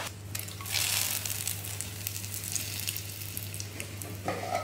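Bay leaf frying in hot oil in a home kitchen, a steady crackling sizzle close by with brief bursts of spitting, no talking.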